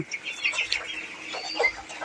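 Broiler chickens on a small family backyard poultry farm raising a thousand chicks, giving soft, scattered clucks and chirps at close to middle distance over a quiet background.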